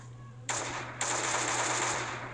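Machine gun fire in the Last Day on Earth video game: a loud burst starts about half a second in and briefly eases, then a second sustained volley runs to the end over a steady low hum, with no talk.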